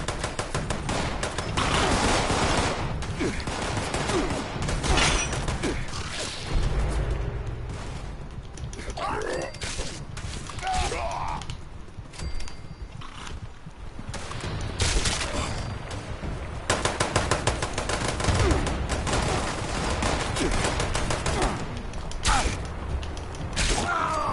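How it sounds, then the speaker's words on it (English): Sustained barrage of gunfire in Fallout 76, loud dense fusillades and rattling machine-gun bursts with mechanical clanks and creaks, continuing throughout with brief lulls, and occasional voices beneath. "it's the barrage of bullets, that's the problem"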